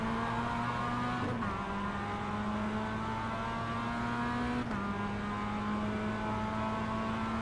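Racing-game car engine held near its rev limiter, a loud steady high-pitched drone with stacked harmonics and two brief dips where the revs drop and climb back, continuous throughout with no talking.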